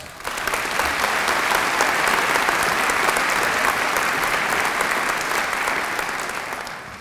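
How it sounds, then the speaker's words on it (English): Sustained, loud applause from a graduation audience at a London degree ceremony, a dense even wash of clapping that swells in and holds steady for several seconds with no talk over it. "Applause."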